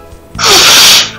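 A single loud, close sneeze bursts out abruptly after a moment of quiet and fades within a second, with no talking over it.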